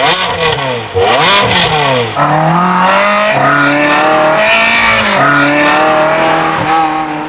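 A luxury sports car revs hard through several rising gear changes, the engine note climbing and dropping repeatedly as it accelerates, loud and close throughout with no talk.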